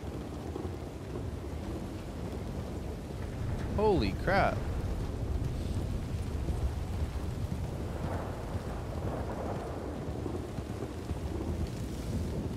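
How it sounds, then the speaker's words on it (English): Thunder from a lightning strike rolls as a low, sustained rumble through a steady rainstorm at a campsite, with a man briefly exclaiming partway through. "Damn! You see that lightning strike?"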